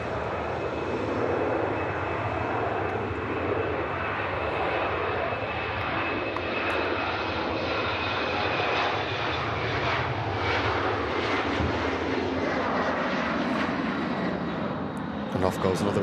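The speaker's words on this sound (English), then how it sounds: "And off goes another aircraft that we saw push back on MATCAM." An aircraft departs from an airport runway, its engine roar steady and loud throughout, a broad continuous rush with a faint high whine, while a voice talks over it.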